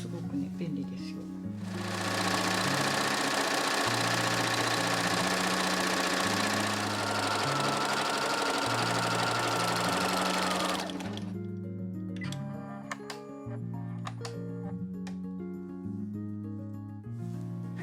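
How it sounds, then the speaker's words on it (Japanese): An overlock serger finishes fabric seam allowances on lounge pants, its rapid mechanical stitching running steadily for several seconds, then pausing into softer intermittent clicks and low motor hum. "それでは今、ロックミシンで縫い代の処理が終わったところです。"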